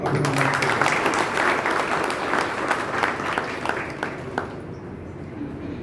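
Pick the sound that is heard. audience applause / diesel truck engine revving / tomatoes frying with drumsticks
audience applause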